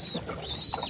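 Pigeons kept in a backyard loft give low, soft cooing calls that blend into a steady wash of background noise, with one brief louder call near the end.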